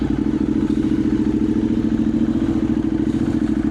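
A 2015 Ducati 848 EVO Streetfighter sport bike idles loud and close with a rough, lumpy, evenly pulsing engine throb, mechanical clatter over the top, holding steady without a clear rev rise, no talking.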